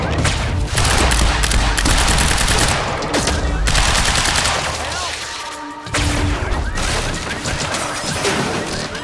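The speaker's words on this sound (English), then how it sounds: "Who's shooting?" Gunfire in Quantum Break, loud sustained automatic bursts and heavy booms rattling almost continuously, with a brief pause before shooting resumes.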